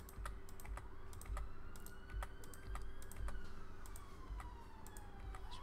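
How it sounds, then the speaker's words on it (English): Rapid keyboard clicks and key taps, steady and close, over a low background hum with a faint siren wailing in the distance. "I'm just clicking it and deleting on my keyboard."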